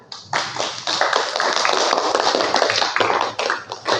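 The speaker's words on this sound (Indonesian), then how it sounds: "sekali lagi kita kasih aplaus untuk kelompok 1" Applause from a group of students in a classroom, many hands clapping densely and close for about four seconds, swelling quickly and then tapering unevenly.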